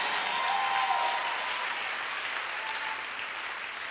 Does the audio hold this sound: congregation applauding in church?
yes